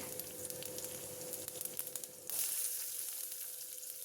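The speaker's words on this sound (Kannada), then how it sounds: "2 ಸ್ಪೂನ್ ಎಣ್ಣೆಗೆ 1 ಸ್ಪೂನಷ್ಟು ಸಾಸಿವೆ ಹಾಕ್ಕೊತಾ ಇದ್ದೀನಿ." Mustard seeds and green chillies sizzling in a couple of spoons of hot oil for a South Indian tempering, a steady crackling fry that swells louder partway through, close and without speech.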